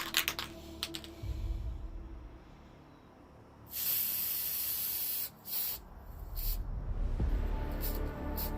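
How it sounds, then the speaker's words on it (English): A can of white spray paint, pressed only lightly so it splatters, releases several hissing bursts, some long and steady, others short, close and loud, with light tapping clicks between them and no talking. "I'm going to press this down, but I'm only going to press it down a little bit so it's going to actually splatter paint it"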